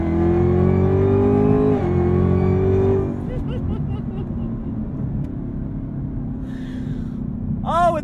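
A Chevrolet Camaro ZL1 with a 10-speed transmission and supercharged V8 sings with a rising whine over a heavy engine drone, then settles into a lower, steady rumble.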